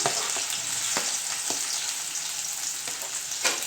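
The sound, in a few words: onion frying in hot oil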